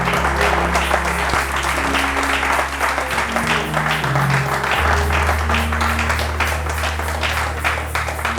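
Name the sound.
congregation applauding the preacher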